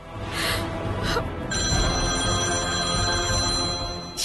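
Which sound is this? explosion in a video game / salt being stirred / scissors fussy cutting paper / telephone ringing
telephone ringing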